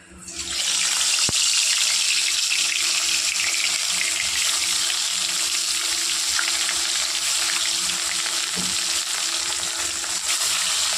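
A jumbo-size fish dropped into hot oil bursts into a loud, dense sizzle that holds steady and close for several seconds with faint crackles, no talk over it.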